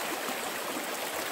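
Stream running high while prospecting: a steady, dense rush of flowing water, loud and close, with no gaps.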